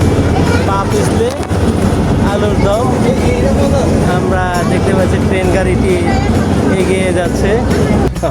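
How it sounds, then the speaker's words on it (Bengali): A large amusement park ride train runs with a steady, loud mechanical rumble and rattling, a continuous drone with squealing tones, while people talk over it. "বিশাল বড় একটি ট্রেনে আমরা উঠেছি"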